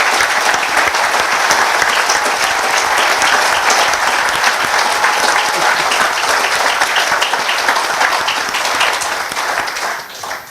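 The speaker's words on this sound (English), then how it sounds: "can I just give them a round of applause" An audience at a speech on decolonisation and self-determination breaks into sustained, loud applause, a thick even patter of many hands that holds steady before tapering near the end.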